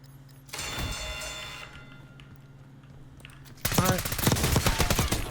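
Rapid automatic gunfire from the video game Call of Duty: Warzone bursts in after a few seconds of steady mechanical hum, continuing loud and dense to the end.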